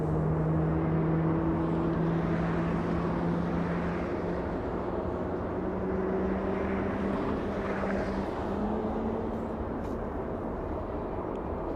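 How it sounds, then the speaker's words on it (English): Emirates Airbus A380 airliner arriving at LAX after a long flight from Dubai, a loud sustained engine drone with slowly gliding whining tones rising and falling over it, continuous and near, no talk. "Super A380."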